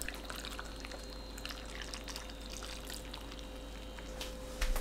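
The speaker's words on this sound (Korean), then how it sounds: "양념물 절반을 청양고추 담은 양파통에 부어주세요" Brine of vinegar, water and coarse salt pours into a container of onions with cheongyang chili peppers, a steady soft trickle and splash running throughout.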